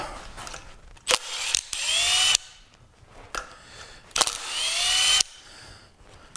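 Rusted fan blade bolts on a 1931 Plymouth engine worked loose during a teardown, with two bursts of rapid ratcheting clicks and metallic whirring separated by short pauses, close up and without speech.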